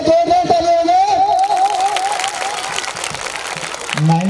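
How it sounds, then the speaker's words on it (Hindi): Applause from an audience at a school annual function, broad clapping rising after a tonal, sung or musical opening, with voices mixed in and a low tone near the end. "एक बार जोरदार ताली बजाएं।"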